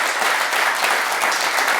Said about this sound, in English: So I think it deserves a really big clap.